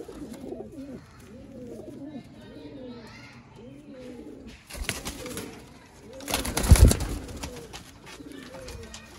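Sialkoti pigeons with red markings coo in repeated soft, throaty rolls close by, joined by a few rustling flutters and bumps toward the end.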